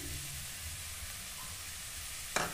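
Chilli and fennel powders roast in a pan for cauliflower paratha, giving off a steady, faint sizzle that ends in a brief louder scrape near the close.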